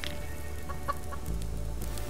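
Chickens in the survival game Subsistence cluck softly in a few short calls over a low steady background hum.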